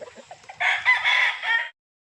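A single gamefarm rooster crows loudly and close by, one long drawn-out call after a few soft clucks, then silence.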